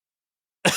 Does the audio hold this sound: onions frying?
no